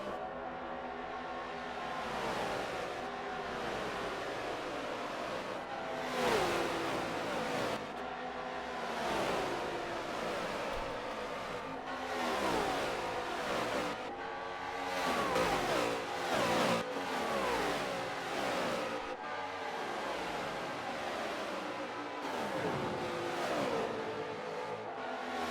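NASCAR race cars in a video game run flying qualifying laps at Indianapolis, with engines revving and wailing continuously in rising and falling sweeps as cars accelerate and pass, loud and steady throughout.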